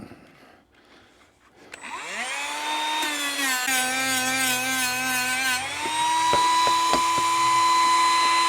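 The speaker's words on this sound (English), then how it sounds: "And then we're going to do the same thing with scuffing these up." A power tool scuffing zinc-coated steel washers whines up to speed, then holds a high, steady pitch with a gritty grinding edge as it works the metal, and the tone shifts near the end.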